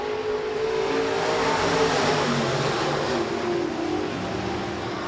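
USRA B-Modified race cars restart a heat race at Rapid Speedway, a loud, steady roar of several engines revving together at close range, with no pauses.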